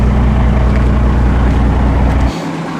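A fishing boat engine drones loudly and steadily up close as the boat heads out to sea on a cold winter morning. The deep rumble cuts off abruptly near the end.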